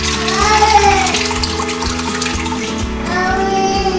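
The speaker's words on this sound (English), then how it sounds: "we're gonna go ahead and strain our milk here into the cheesecloth" Milk for homemade ricotta cheese is poured and strained into cheesecloth, giving a steady, close splashing trickle of liquid that runs throughout, with some tonal background sound mixed in.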